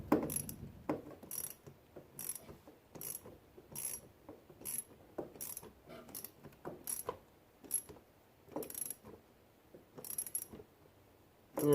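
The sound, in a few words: tightening a hose clamp on a radiator hose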